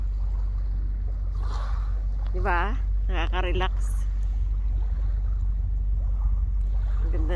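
Water laps against the bank of the river Rhine on a sunny winter day, a steady low wash that runs the whole time, with a few brief voices speaking over it.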